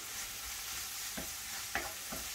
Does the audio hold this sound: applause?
no